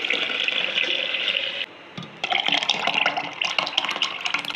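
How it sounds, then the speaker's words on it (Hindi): Electric blender whirring as it blends tamarind and plum pulp for a sharbat, a steady loud motor whine that briefly dips and then resumes, with no talking. "इस तरह ब्लेंड करती हूँ मैं।"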